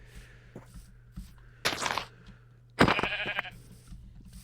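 Sheep in a Minecraft-style survival game bleat twice, each a loud, wavering baa standing out against quiet background ambience.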